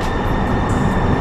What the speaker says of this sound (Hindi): हमारी ट्रेन आ गई नॉर्थ गेट के लिए।